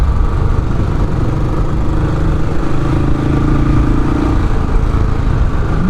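Royal Enfield Classic 500 motorcycle leaning through a corner, its single-cylinder engine thrumming steadily and loud alongside wind and road noise, with a brief rise in engine note midway as it is pushed harder.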